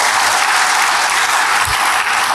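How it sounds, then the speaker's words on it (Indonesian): Applause from a church congregation fills the space, a dense, steady wash of many hands clapping at once for a couple of seconds with no voices over it. "boleh berikan tepuk tangan dulu bagi Tuhan"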